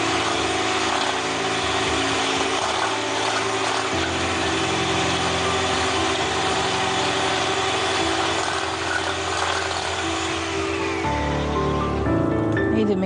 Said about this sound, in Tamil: இது பீட் பண்ணுறப்போ ஸ்ட்ரைட்டாக வச்சுட்டு பீட் பண்ணுங்கள்.